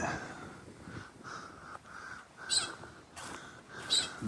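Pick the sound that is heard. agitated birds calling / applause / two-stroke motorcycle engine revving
agitated birds calling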